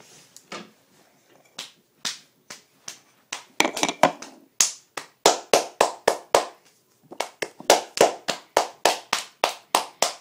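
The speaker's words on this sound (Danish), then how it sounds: "i øjeblikket klapper vi alle meget fint her" A group claps in sharp, separate, fairly slow rhythmic bursts, close and crisp, pausing briefly before resuming a steady beat without talk over it.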